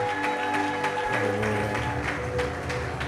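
Church congregation applauding and cheering during a French-language prayer and fasting service, a steady dense wash of clapping and voices with sustained musical tones underneath, continuous for about three seconds.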